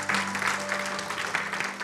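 Church congregation applauding during a Spanish-language sermon, a dense steady wash of clapping lasting a couple of seconds, fairly close with no voices over it.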